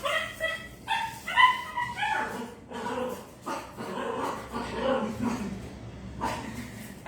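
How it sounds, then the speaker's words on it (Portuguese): A small pet dog, a little female, yips and barks excitedly indoors in quick bursts with whiny, high-pitched yelps, close and fairly loud, with some faint talking mixed in. "A minha gatinha tá aqui, a minha cachorrinha fica doidinha."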